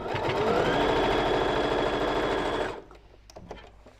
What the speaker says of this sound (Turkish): Peki 1301 Singer dikiş makinesi nasıl bir makinedir?